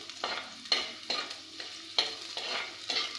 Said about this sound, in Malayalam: ഇഞ്ചി വെളുത്തുള്ളി എണ്ണയിൽ കിടന്ന് കുറച്ചൊന്ന് മൂക്കണം